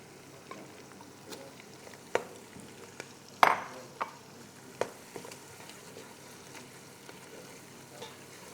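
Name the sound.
frying minced meat with onions in pot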